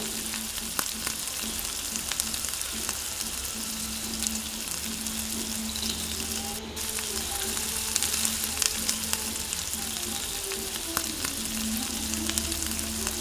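Mushroom curry with chili powder and chicken masala frying in a pan, a steady close sizzle with scattered crackles and stirring scrapes that continues without a break.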